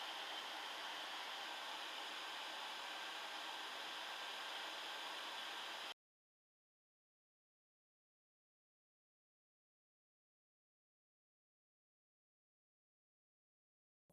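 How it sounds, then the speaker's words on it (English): A steady, loud rush of a hair dryer drying ASUS laptop cooling fans blows for about six seconds, then cuts off abruptly into silence. "immediately I start drying the both fans using a hair dryer"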